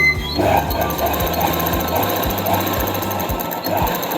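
A sewing machine stitches a palazzo pant, starting up after a brief moment and running in a fast, even rhythmic clatter close by.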